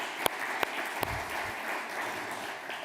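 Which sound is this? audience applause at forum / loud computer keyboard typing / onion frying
audience applause at forum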